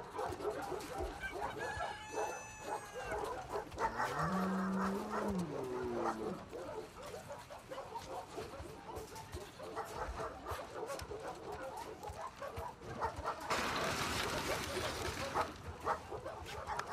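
A dog in The Last of Us Part II video game barks and whimpers in short bursts over a busy game soundscape, with a low growling yelp in the middle and brief character voices around it.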